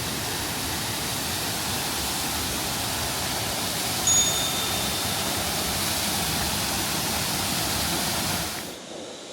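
Steady broadband roar of rushing water from a canyon waterfall, loud and continuous without pause, then cutting off abruptly at the end.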